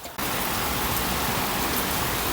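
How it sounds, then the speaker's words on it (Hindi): Steady rain, recorded through a Boya BY-V20 wireless mic, hisses loudly and evenly, a dense wash of falling drops with no other sounds. "बारिश की भी आवाज़ आप तक जा रही होगी।"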